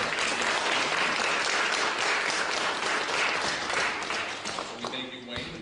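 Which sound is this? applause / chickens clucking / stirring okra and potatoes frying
applause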